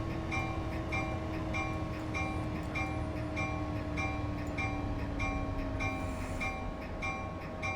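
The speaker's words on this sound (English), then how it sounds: "Looks like the whole train is now on the platform, so let's go and start slowing her down." Acela Express train in Train Simulator 2020 slowing at the Stamford platform on the New York–New Haven line, a steady loud rumble with humming tones and a falling whine as it decelerates, no talk.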